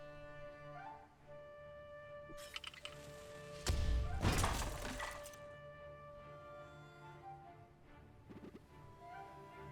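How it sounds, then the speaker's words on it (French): Explosion in the LEGO Bricktales video game, a loud broadband blast and rumble lasting about two seconds over steady game music, preceded by a brief crash. "vous avez vu cette grosse explosion? C'était de la bombe."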